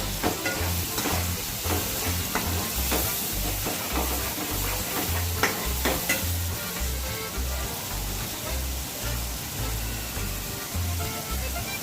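A paneer tomato curry base with turmeric powder sautés in a pan, a loud, continuous close-up sizzle with a steady stream of stirring scrapes and a low rhythmic thumping underneath.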